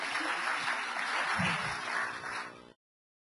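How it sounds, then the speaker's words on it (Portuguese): An audience at a hospital infection-control meeting claps with steady, moderate applause for under three seconds, then it cuts off abruptly into silence. "palmas para..."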